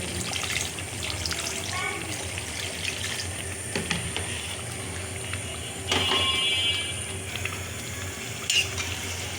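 Water is poured into a cooking pot of fish heads and greens, a continuous splashing and sizzling wash with scattered clinks and stirring, steady and fairly close throughout.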